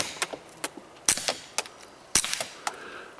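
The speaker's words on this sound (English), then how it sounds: "let's shoot in some dirt a couple of times" A suppressed Walther PPQ .22LR pistol fires into dirt, a handful of sharp, thin cracks spaced irregularly, each followed by small ticks and patters, quiet and close with no talk.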